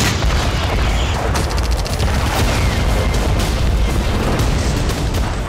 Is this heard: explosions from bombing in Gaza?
yes